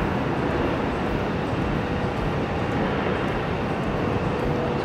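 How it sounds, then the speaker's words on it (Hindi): A Chinese high-speed bullet train arrives at a neighbouring station platform, giving a steady, loud rushing roar of rail noise that holds constant throughout, with no voices. "एक और बुलेट ट्रेन आई है दूसरे प्लेटफॉर्म पे"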